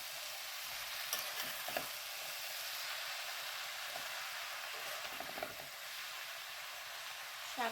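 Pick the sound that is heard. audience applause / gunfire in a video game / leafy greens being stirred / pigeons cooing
leafy greens being stirred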